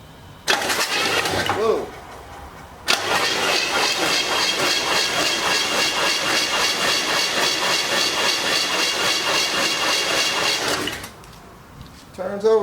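A 1973 Chevy Nova engine that had sat for 20 years cranks over on the starter in a loud, steady, hissing whir for about eight seconds after a brief burst, with a voice exclaiming near the start.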